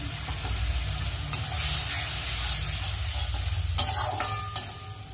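Turmeric, chilli and other ground spices in a pan for fish curry, with water added and a broad hissing sizzle over a low rumble, plus a few faint scrapes and clinks of stirring.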